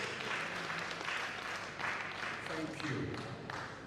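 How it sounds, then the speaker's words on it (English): A seated audience at a bar association law week event claps steadily for the planning committee chairman, a fairly faint, continuous patter of many hands with soft crowd murmur throughout. "This young man deserves a standing round of applause."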